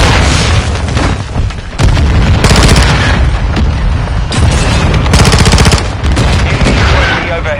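Repeated loud mortar blasts in Call of Duty Modern Warfare 2 roll together with bursts of gunfire, forming a constant, heavy barrage with several sharp peaks.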